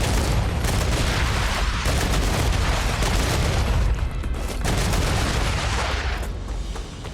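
Sustained, loud gunfire from a low-recoil weapon in the sci-fi factory-building game StarRupture, with dense rapid shots running almost unbroken across the whole stretch and no talk.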